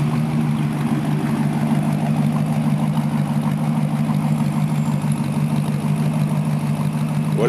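A 1956 Ford Victoria idles with a steady, even low rumble from its exhaust, heard close and continuous throughout, with no revving and no voices.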